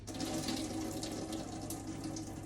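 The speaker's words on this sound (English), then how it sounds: "That's what's coming out of the tofu. I mean, the water is drained out, right?" Water wrung from pressed tofu and a drenched paper towel splashes steadily into a sink, a continuous close rushing pour like a running tap.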